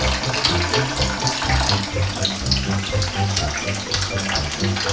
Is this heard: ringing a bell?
no